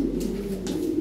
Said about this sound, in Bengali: হ্যাঁ বিশাল সাইজের কবুতর